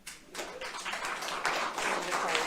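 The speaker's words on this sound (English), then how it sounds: "Members of the audience, I would appreciate if you would withhold applause" Audience applause breaks out in a state senate committee hearing room after testimony, a dense spread of clapping that swells and stays steady, moderately close and filling the space without any talk over it.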